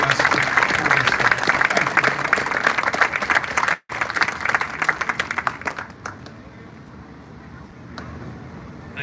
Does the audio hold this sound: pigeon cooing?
no